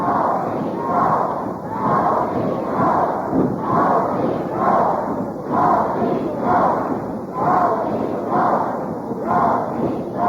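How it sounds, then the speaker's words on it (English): Arena crowd at a 1975 professional wrestling event chanting rhythmically, a loud, repeated two-beat chant rising and falling about once a second, sustained throughout. "Crowd chanting, go, Dean, go."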